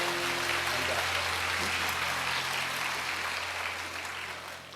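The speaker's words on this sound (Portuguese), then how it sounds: "uma salva de palmas" Church congregation gives a round of applause during an evening service, steady dense clapping over a low sustained musical hum, gradually fading toward the end.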